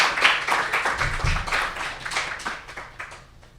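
An audience clapping for panelists at an Indigenous games event, a fairly close burst of many hands with uneven rhythm that thins out and tapers off over the last second.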